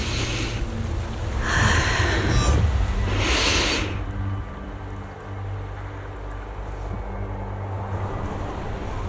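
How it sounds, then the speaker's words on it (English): Gusting wind in the video game Trigger Agent, a steady broadband rush that swells loudly for the first few seconds, then settles into a lower, continuous blowing with faint low hum beneath. "The wind. It's shifting."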